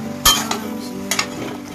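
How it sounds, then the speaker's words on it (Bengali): Pumpkin green stalks stir-fried in a pan, with a steady close sizzle and a few sharp scrapes and clinks of a utensil against the pan. "এর মধ্যে সেই শাকের ডাঁটাগুলো দিয়ে দেবো, দিয়ে কিছুটা সময় এটাকে কষিয়ে নেব"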